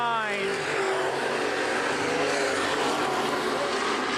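Open wheel modified race cars roar around Baer Field Speedway during a 2011 feature, a continuous loud engine drone with passing pitch sweeps, and a voice talks over it throughout.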